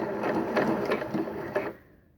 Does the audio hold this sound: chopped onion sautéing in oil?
no